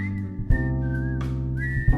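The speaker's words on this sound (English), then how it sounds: "Here I am listening to y'all whistling." Clear, sustained whistled notes with small pitch slides, broken by a couple of short breathy gaps, close and fairly loud with no talking.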